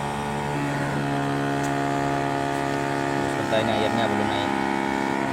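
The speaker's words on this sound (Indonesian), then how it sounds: "Dan nyalakan mesinnya." A small engine on a chili and fertilizer sprayer rig runs steadily with a constant harmonic drone, a voice speaking briefly over it near the end.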